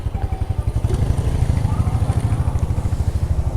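A Rapido bike taxi motorcycle pulls away at the start of a ride, its engine thumping in a steady rapid pulse, loud and close throughout.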